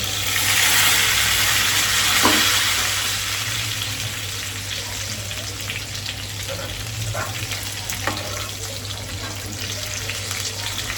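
Eggplant frying in a pan, a steady loud sizzle that is strongest at the start and then settles a little, with occasional clinks of a utensil turning the pieces and a low hum underneath.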